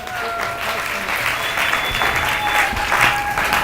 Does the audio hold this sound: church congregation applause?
yes